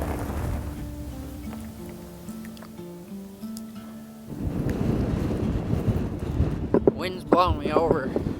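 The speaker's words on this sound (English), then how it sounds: "Wind's blowing me over." Strong wind gusting outdoors during a spring turkey hunt, rumbling against the microphone as a loud, broadband roar that swells after a quieter opening, with a voice briefly heard.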